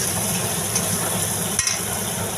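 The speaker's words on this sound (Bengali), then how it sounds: "দেখুন মশলাটা ভালো করে কষিয়ে নিচ্ছি যাতে কাঁচা জিরের গন্ধ না হয়" Cumin and chilli sautéing in hot oil for a Bengali cabbage and moong dal, a steady close sizzle and crackle with a few soft stirring scrapes and no talk.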